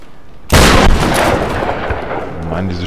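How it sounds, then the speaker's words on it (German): A loud, booming shotgun blast in the video game Tomb Raider (2013) hits suddenly and rolls off into a long, fading rumble, followed by low ambient game sound. "Mann, diese Shotgun ist aber auch laut."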